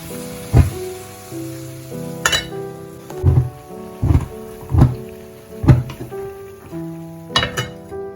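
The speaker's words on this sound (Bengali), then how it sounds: "একটু সেদ্ধ হয়ে যাক, আবার ঢাকা দিয়ে দিচ্ছি এটাকে।" A metal pot of gourd stem and leaf curry gets its lid set on over a low sizzle, with several close metallic clinks and clunks of cookware and utensils spread across the span.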